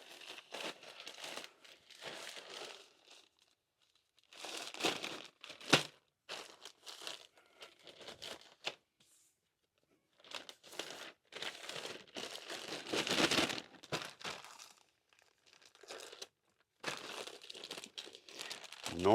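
Packaging crinkles and rustles while jeans are packed for an eBay order, as close, crackly handling bursts of varying length separated by silent pauses.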